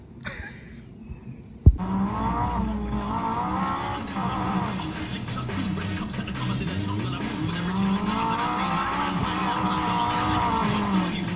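Racing game played on a PS4, with car engines roaring and whining steadily after a sharp thump near the start, tires squealing and revving throughout at moderate loudness.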